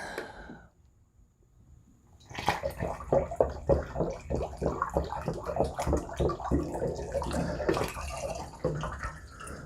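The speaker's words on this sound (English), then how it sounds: "Let's go ahead and add some of our water in." Water pours steadily into a carboy while mead is being made, a near, continuous splashing rush with fluctuating gurgles after a quiet start of about two seconds.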